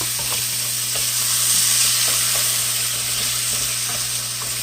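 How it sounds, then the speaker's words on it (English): Bell pepper, green onion and minced garlic sauté in a hot pan, giving a steady close sizzle and hiss with faint stirring scrapes throughout and no talk. "Just going to saute these until they're nice and glistening."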